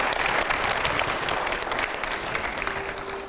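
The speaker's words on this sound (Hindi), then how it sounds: "थोड़ी जोरदार तालियों के साथ में" Loud, dense applause from a studio audience on a political discussion show, a continuous wash of clapping that holds steady and then eases slightly at the end.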